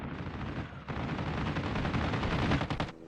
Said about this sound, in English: the gunfire, the automatic will do the job just as well